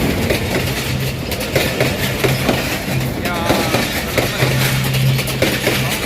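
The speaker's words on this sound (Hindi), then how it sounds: "ये देखें ट्रेन आ चुकी है और ये हमारे पास से रन थ्रू हो रही है" A train running through Golra Sharif railway station in Pakistan, heard as a loud, steady clickety-clack of wheels on rails as the cars roll past close by, with someone talking over it.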